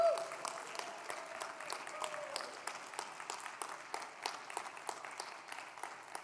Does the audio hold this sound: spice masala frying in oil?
no